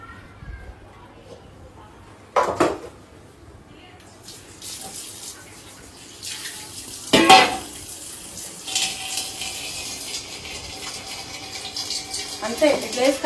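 Water runs from a kitchen tap into a vessel while chicken shawarma is being prepared, a rising, splashy flow with clanks of a pot and a voice speaking at times.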